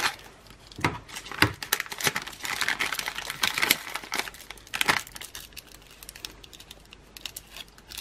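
A package of solid fuel tablets, stored refrigerated for over three years, is opened up close: sharp plastic crinkles and tearing snaps come in scattered bursts with quieter rustling between.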